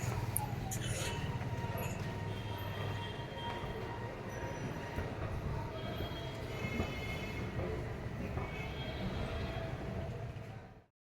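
Metro train at Kalighat station in Kolkata, with a loud, steady rumble of rolling cars and a thin wheel squeal that continues throughout before cutting off at the end. Faint voices sit low in the mix.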